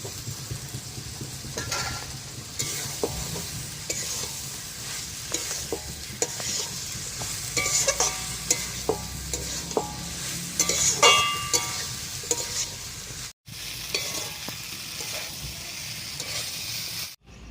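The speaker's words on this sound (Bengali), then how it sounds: "এবার ভেজে রাখা মহুয়া ফল আর আলুটা দিয়ে কিছুক্ষণ কষাবো" Mahua fruit and potato stir-fried in a spice masala in a pan, with steady sizzling and frying and repeated scraping stirs throughout, close and fairly loud, no talking.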